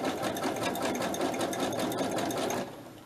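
A sewing machine runs a zigzag stitch in a quick, steady mechanical whirr with a regular rapid pulsing, close and clear for about two and a half seconds before stopping.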